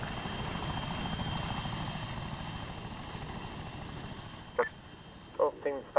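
Helicopter rotor thumping steadily throughout a POW rescue mission in a video game, a dense rhythmic chop that stays loud, with a few sharp bursts near the end.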